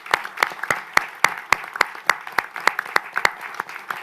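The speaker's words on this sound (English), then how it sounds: "let's try to applaud all the men and women who serve in our country" An audience applauds at a federal government press conference: steady, rhythmic clapping that holds a quick, even beat for several seconds and sounds fairly close.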